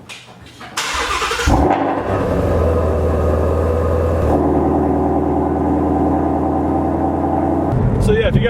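A Shelby GT350 with its resonator deleted cranks briefly, then fires into a loud, steady idle that holds close and alone with no talk, before a short blip near the end.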